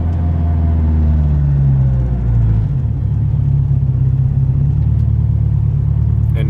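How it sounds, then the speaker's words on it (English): An 1100HP Subaru STi with a 4-cylinder engine and a huge Precision Next Gen 8085 turbo, running on E85, drones loudly and steadily, with a deep rumble that shifts pitch partway through as it cruises around town. "the loudest thing on this car is this obnoxious turbo"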